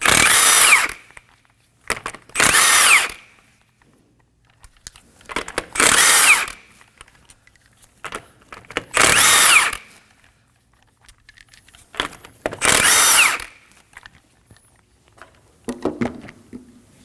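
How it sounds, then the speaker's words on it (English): A power impact tool with a 21mm socket removes the wheel lug nuts on a 2011-2016 Kia Optima, firing five loud, close bursts of rattling hammering separated by pauses with small metallic clinks. "Using a 21mm socket, go ahead and remove the lug nuts."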